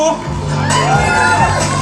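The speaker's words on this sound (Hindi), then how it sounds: "जोरदार तालियां श्रेयस के लिए" A crowd at a film trailer launch event cheers and whoops loudly while a voice shouts over them, a dense, close roar of excitement.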